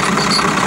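An IZh Planeta Sport 400 motorcycle engine running steadily while a loose tool set rattles against metal, a continuous dense loud roar with no talk.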